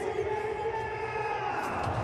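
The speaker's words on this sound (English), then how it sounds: "Crowd still here." A large stadium crowd lingers after a cricket final between India and New Zealand, a broad, sustained roar of cheering and voices heard from a distance at a fairly low level, with no break.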